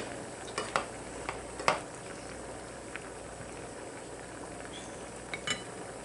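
A carrot glaze simmering and thickening in a pan bubbles with a low, continuous sizzle, broken by a few light clicks and utensil taps, heard close and fairly quiet.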